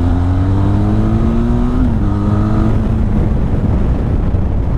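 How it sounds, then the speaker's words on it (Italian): A Benelli TRK 502 X adventure motorcycle's engine revs while riding, rising and dropping through the gears as a loud, close, buzzing drone over wind noise. "il motore viene su molto elettrico, bello, c'ha abbastanza vibrazioni, però scalata si sentono"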